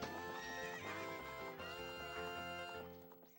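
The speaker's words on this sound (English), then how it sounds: "What's up with that horse? Is that Epona?" Epona, the horse in The Legend of Zelda: Ocarina of Time, whinnies loudly and at length over game music, with faint hoof clip-clops beneath, all fading out at the end.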